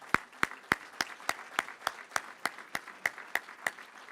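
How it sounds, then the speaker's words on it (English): Audience applause at an annual business awards meeting, a steady run of sharp, evenly spaced claps ringing out close and fairly loud, with no voices over it. "Let's give everybody a round of applause."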